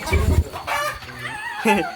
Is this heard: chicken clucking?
yes